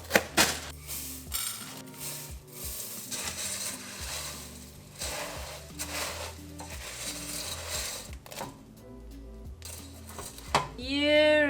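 Butter and marshmallows being stirred in a pot, with a utensil repeatedly clinking and scraping against the metal in irregular strokes, close and fairly quiet, ending with a brief ringing clank.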